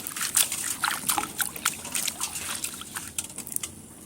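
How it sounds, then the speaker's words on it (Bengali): Plant roots and stems being washed by hand in water for a homemade hair-growth remedy, giving soft continuous sloshing and trickling with small drips and splashes, close by, with no talking. "এটা ধুয়ে নেব ভালো করে"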